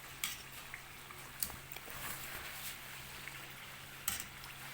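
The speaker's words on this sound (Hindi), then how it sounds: "ये अब इसी तरह से थोड़ी देर और फ्राई होंगी" Qeema kachori deep frying in oil on a low flame makes a faint, steady bubbling sizzle, with a few soft clicks and taps from utensils and no talking.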